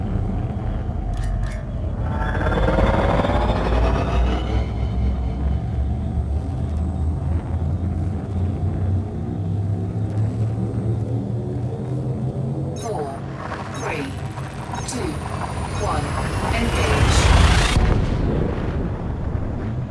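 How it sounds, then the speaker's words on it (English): Frame Shift Drive in the Elite Dangerous game charges with a loud, building synthetic rumble, then a surging roar and rising whine as the ship jumps into hyperspace near the end, heavy low rumble throughout. "Frameshift drive charging."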